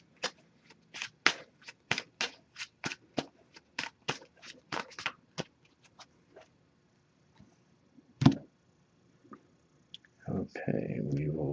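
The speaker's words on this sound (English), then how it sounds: "Just going to give this a few shuffles." An oracle card deck is shuffled by hand, giving a rapid run of soft crisp card clicks that slows and thins out, followed by a brief rustle and faint low talk near the end.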